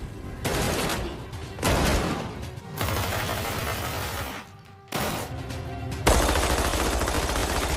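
Film gunfight with sustained, loud bursts of automatic gunfire and rapid volleys, broken by a brief lull, dense and continuous throughout.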